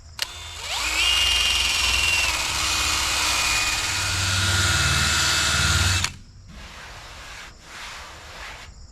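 A power drill fitted with an abrasive pad grinds rust off the crusty edges of a van's body panel, a loud, steady whirring scrub that holds for about five seconds before cutting off, followed by two fainter, briefer bursts.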